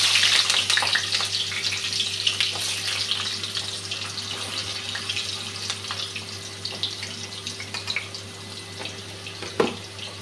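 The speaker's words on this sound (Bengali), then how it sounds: "আলুটা ভেজে নিচ্ছি একটু।" Potatoes fry in a pan with a steady hiss and light crackle, a low constant hum underneath and a single sharper clatter near the end, with no one speaking.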